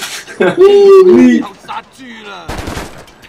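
Gunfire in the Stranglehold video game crackles in a few rapid bursts, loud and close, mixed with game effects and a voice talking over it.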